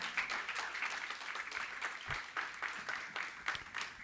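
A church congregation clapping hands together during a Spanish-language service; dense, fairly faint applause with a few sharper claps standing out, and no talk over it.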